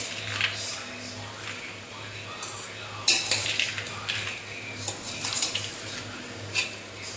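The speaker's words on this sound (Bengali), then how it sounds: "নুনটা মিক্সড করবো।" A spoon clinks and scrapes against a bowl while mixing salt, tamarind, cumin powder and chopped coriander into aloo kabli, with scattered irregular taps, the sharpest around the middle, over steady low kitchen hum.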